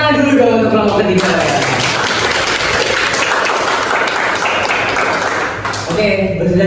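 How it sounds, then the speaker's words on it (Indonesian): A classroom of students applauds group 3's presentation, a burst of clapping in a room that rises and holds for several seconds, with voices heard before and after it. "tepuk tangan dulu dong untuk kelompok 3."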